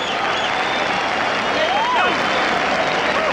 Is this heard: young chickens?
no